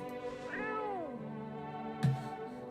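A cat meows once in the video game No, I'm Not a Human, a clear, close, drawn-out call with a falling pitch. A short soft thump follows near the end, and no one speaks.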